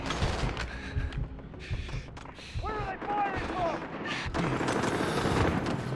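Dense gunfire and explosive booms from Call of Duty: Modern Warfare gameplay, with continuous loud shots, rumbling blasts and chaotic battle noise filling the scene, while voices speak over the action.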